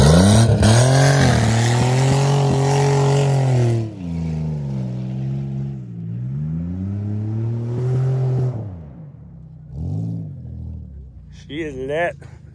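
Burning Honda car with its engine revving at redline near a trailer home, repeated rising and falling revs with harmonic whine, loud and close, each surge climbing then dropping, with people talking under it.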